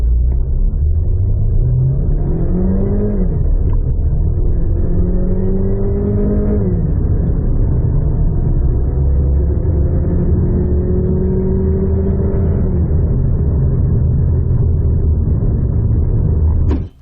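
MG HS Trophy Grade SUV accelerating hard in a 0 to 100 km/h run: loud, continuous engine drone with rising pitch sweeps through several gear changes, close and steady for the whole stretch, no talk.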